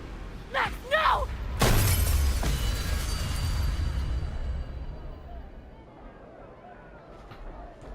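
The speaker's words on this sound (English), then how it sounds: "Glass shatters." Glass shatters in the video game Life is Strange, a sudden loud crash with a spray of breaking shards that rings out and slowly fades, preceded by brief voices.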